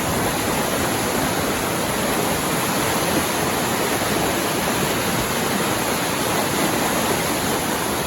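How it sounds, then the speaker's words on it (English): Snowmelt-swollen creek water rushes beneath a trail bridge on a mountain hike, a loud, continuous broadband roar that stays even throughout with no voices. "you have to cross over this creek."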